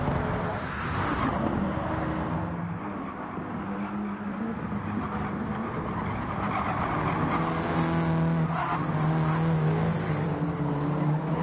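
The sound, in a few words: racing cars and tire squeal in a video game race at Nurburgring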